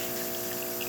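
A DeLonghi espresso machine hums as its pump pushes water through a test shot, a short, steady buzzing drone with a faint watery trickle over it.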